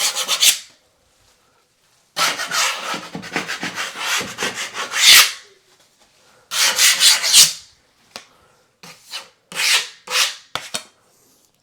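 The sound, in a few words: scraping drywall patch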